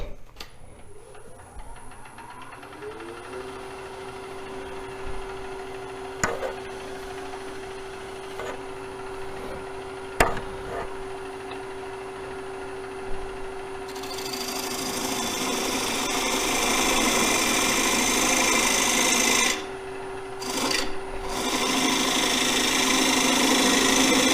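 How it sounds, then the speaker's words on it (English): A parting tool cutting a tenon on a wooden bowl spinning on a lathe: a continuous motor hum with a steady tone and occasional sharp ticks, then harsher, louder scraping as the cut deepens, with no talking. "This is the parting tool. I'm just going to cut that tenon in it."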